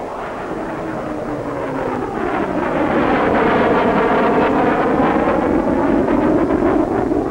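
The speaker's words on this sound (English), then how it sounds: "the 508, a twin-engine fighter with a thin straight wing and butterfly tail unit" Supermarine 508 twin-engine naval jet fighter with a thin straight wing and butterfly tail flies past, a loud steady jet roar that builds over the first few seconds and then holds, with wind buffeting the microphone.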